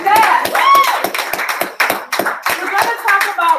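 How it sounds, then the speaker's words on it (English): An audience at a wellness speakers showcase claps for a few seconds, a lively burst of hand claps that rises quickly and then tapers off. "Clap that up."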